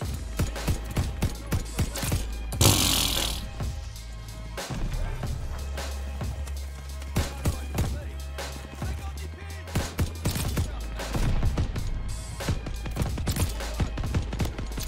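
A light machine gun in a video game fires repeated sharp, close bursts over a steady low rumble of game ambience, with a brief whooshing blast partway through.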